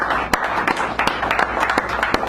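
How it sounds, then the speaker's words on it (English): Audience applause at a poetry hour in a San Francisco café: a short burst of scattered, close hand claps over a steady crowd murmur. "Give him a round of applause."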